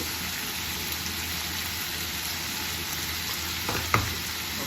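Mixed vegetables with turmeric, salt and tamarind fry in a pan with a steady, close hiss, and a brief scrape of stirring near the end, with no talking.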